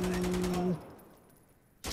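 AK rifle firing in Insurgency Sandstorm, a rapid rattling burst of repeated shots for under a second, then quiet room tone before another sharp shot at the end, with tonal in-game sounds over the burst.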